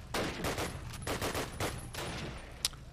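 Gunfire from a World War I-era rifle in the video game Call of Duty 1, a rapid scatter of shots and bursts through a noisy battle mix, with one sharp crack near the end.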